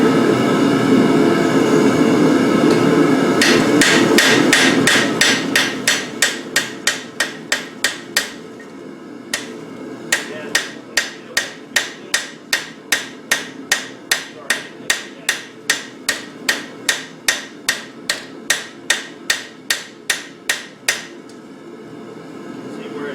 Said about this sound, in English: we're using the flat side of our rending hammer